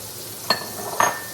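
Onion, garlic and celery stirred in a pot for beef stew, two brief scraping strokes about half a second apart over a faint, steady sizzle.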